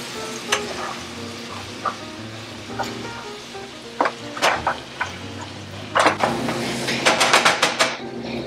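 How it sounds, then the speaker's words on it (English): Meat cooks in a pan on low heat for a Mexican dish, giving a soft continuous sizzle broken by scattered utensil clicks and a quick burst of scraping taps near the end. "we're just gonna set it on low so the meat can cook"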